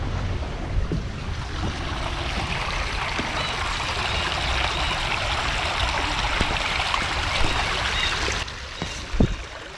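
Black Creek in a pine-forest conservation area near a bridge, a continuous close rush of flowing water with some wind buffeting the microphone and no voices.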